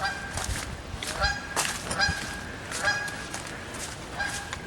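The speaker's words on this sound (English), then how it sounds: "Chatty geese. I guess they don't like me back here." Geese honk repeatedly and loudly at close range in an outdoor autumn wilderness setting, their calls overlapping in irregular bursts against a steady background of chatter from the flock.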